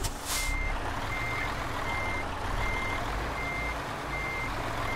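Steady, evenly spaced reversing beeps from a heavy truck in Euro Truck Simulator 2, repeating about every half second over a constant low engine rumble, with no talking.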